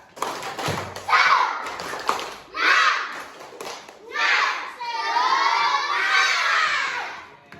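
Schoolchildren at an athletics lesson on the long jump shout a rhythmic clapping chant in loud bursts, with claps and thumps between the yelled phrases, building into a sustained group shout toward the end.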